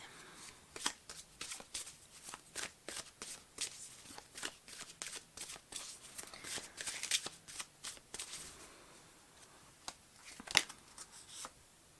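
Tarot cards being shuffled by hand, a soft, close run of quick riffling flicks and papery slaps with brief pauses between bursts, and no talking.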